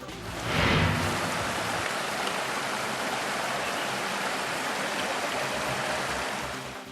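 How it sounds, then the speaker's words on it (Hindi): Heavy first monsoon rain pours down in the Champawat hills near Tanakpur, a dense, steady roar of water that swells early and stays loud and unbroken throughout, with no voices. "देवभूमि पर भारी पड़ रही है पहली बरसात।"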